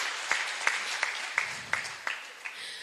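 An audience at a panel discussion gives fading applause, with a few distinct claps spaced roughly evenly over a soft wash of clapping that thins out toward the end.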